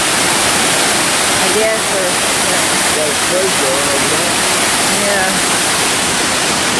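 Water pours down a flume in a steady, loud roar that fills the scene, with people talking briefly over the rush.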